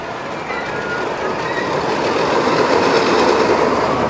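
A long family roller coaster train runs at Six Flags Great Adventure, giving a steady broadband rumble and rush that swells louder over a few seconds, close by and continuous, with no talking.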